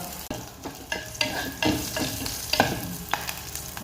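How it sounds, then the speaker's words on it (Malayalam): Onions and green chillies are sautéed in a hot oiled pan with curry leaves, giving a steady sizzle broken by several scraping spatula strokes, close and moderately loud with no talk. "അതിലേക്ക് ഉള്ളി, പച്ചമുളക് ബ്രൗൺ കളറാകുന്നേരം വഴറ്റിയെടുക്കുക."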